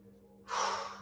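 A sharp, forceful exhale bursts out mid-rep during a kettlebell jerk in a long cycle workout, a sudden close breathy gust after a moment of quiet, holding briefly over a low steady hum.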